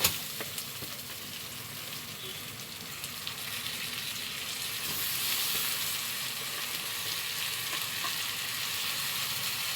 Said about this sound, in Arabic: نحط الرز هنا ونقلب نحط باقي الرز